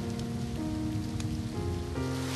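Steady rain in Seven Deadly Sins, a dense continuous patter on surfaces, fairly loud and unbroken, with a faint low background tone beneath.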